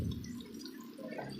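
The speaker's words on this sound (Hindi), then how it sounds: "सबसे पहले हम इसके अंदर थोड़ा सा पानी ऐड करेंगे" Water is poured into a pan of frying spices while cooking a chicken and bottle gourd curry, giving a soft, close liquid splash and drip over a low sizzle.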